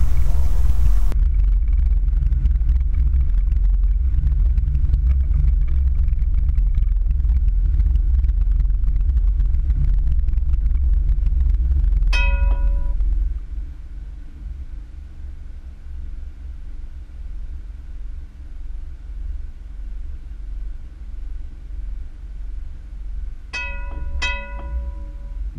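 A car driven slowly along an Ottawa pedestrian mall to imitate a heritage streetcar: a steady low engine and road rumble that drops in level midway, with a few sharp short tonal chirps or squeaks near the end.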